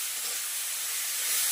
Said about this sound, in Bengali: তাই এবার আমি দিয়ে দিচ্ছি ডাল চাল সব।